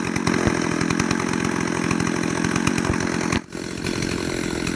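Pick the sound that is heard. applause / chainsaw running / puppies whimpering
chainsaw running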